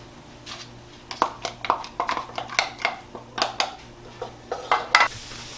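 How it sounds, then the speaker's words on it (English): Onions cooking in a skillet over medium heat for a one-skillet Mexican rice dinner, with a faint sizzle beneath a series of light scraping and stirring knocks from a utensil against the pan. "Start by cooking the onions over medium heat for a couple of minutes."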